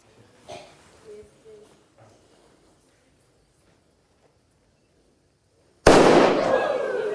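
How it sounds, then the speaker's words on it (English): A small demonstration cannon fires with a single sudden loud blast after a quiet fuse burn, preceded by a few soft thumps and a voice, the boom trailing off in a long rumbling decay. "When the fuse burns down and the cannon fires"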